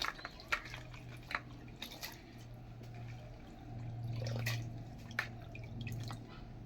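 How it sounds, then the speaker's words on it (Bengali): Marigold-like yellow flowers from leafy greens being rinsed in water to remove dust, soft drips and splashes with a few sharp droplet hits over a steady low hum. "ফুলগুলোকে আমি ভালো করে ধুয়ে নেব অর্থাৎ ওর মধ্যে যদি কোনো ধুলো টুলো থাকে ভালো করে ধুয়ে নেব"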